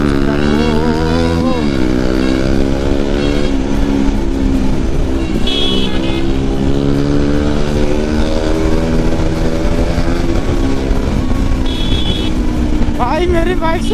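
Loud rushing wind noise while riding an Apache motorcycle, blended with the bike's engine drone and passing traffic, with someone talking over it throughout.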